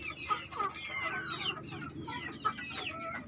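Chickens raised together in a colony cluck continuously at close range, with overlapping short calls and occasional higher squawks over a low farmyard hum.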